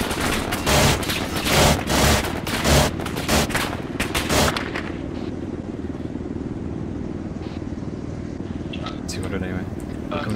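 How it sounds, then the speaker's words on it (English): Gunfire in a multiplayer shooter: a string of loud, sharp shots in quick succession at the start, then fading to a rumbling background with faint later pops, over talk. "I just got shot, there's a sniper somewhere to the northwest."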